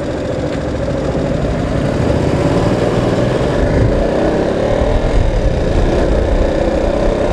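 A motorcycle engine held at low revs while riding through downtown Davao City, a steady, loud, continuous drone with wind rush and no talking.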